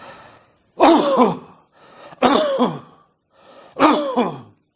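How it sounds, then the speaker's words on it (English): A patient's laryngeal cough, each a single big, booming burst after a deep breath. Three such coughs come close by, each preceded by a faint inhale, with short silences between. "The patient takes a deep breath and gives one single big boom of cough."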